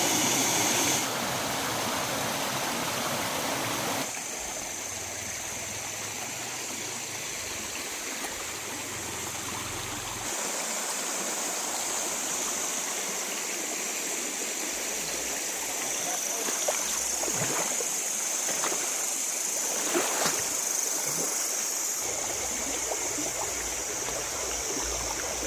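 A river flows steadily as a broad, constant rush of water, with shifting splashes and hiss at close range throughout.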